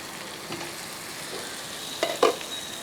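Soya chunks frying in a pan, a soft steady sizzle with a few scraping stir clicks as the lid comes off, the clatter growing louder near the end, no voices.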